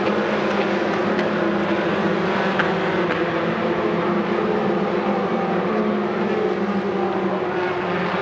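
Formula 4 race cars at a 2017 F4 Southeast Asia race circuit give a continuous loud, high engine whine and roar, steady throughout with no voices over it.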